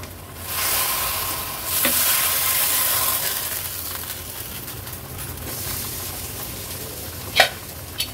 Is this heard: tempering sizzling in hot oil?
yes